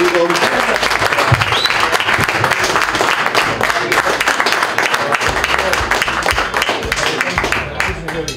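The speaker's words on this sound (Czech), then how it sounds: "Druhé miesto a veľký potlesk" A crowd at a winter navigation rally awards gathering gives loud, sustained applause for the second-place crew, with sharp individual claps standing out over a thick bed of clapping and people talking.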